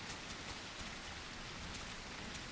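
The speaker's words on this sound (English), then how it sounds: "it needs to stop though. It's too loud. It's too much rain." Steady, loud rain falling in the video game The Isle Evrima, a dense continuous hiss of drops pattering on surfaces with no break, alone and without talk.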